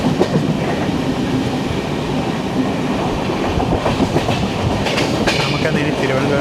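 The Jan Shatabdi Express with new LHB coaches runs into Thiruvananthapuram Central, heard from on board as a loud, steady rumble with rhythmic wheel clatter over rail joints throughout.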